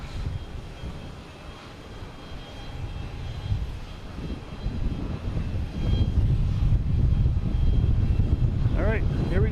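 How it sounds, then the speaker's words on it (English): An Aer Lingus Airbus A330-300 arrives at Boston Logan from Dublin, its jet engine rumble rising steadily and growing louder toward the end, with people talking in the background throughout. "here we got Aer Lingus coming in from Dublin. A330-300."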